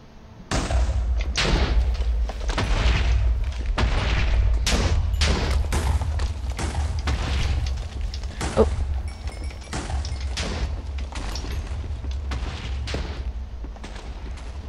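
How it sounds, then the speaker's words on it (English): Minecraft explosions boom and thud repeatedly over about fifteen seconds, a dense, irregular run of loud blasts coming one after another against a rumbling low background. "Time for explosions."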